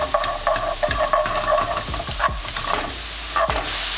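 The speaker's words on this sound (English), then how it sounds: "I'm gonna sweat those mushrooms and get a nice char on them" Mushrooms with shallots and garlic fry in a pan over medium heat, a loud close sizzle cut through by repeated scraping stirs of a utensil, with no talk.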